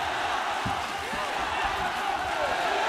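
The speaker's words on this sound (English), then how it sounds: "And listen to this crowd." A steady roar from the crowd at a ONE Championship MMA fight between Aung La N Sang and Vitaly Bigdash fills the arena, running continuously beneath a commentator's voice.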